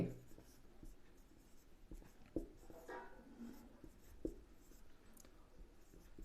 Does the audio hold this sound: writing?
yes